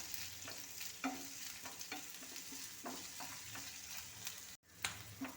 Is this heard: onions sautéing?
yes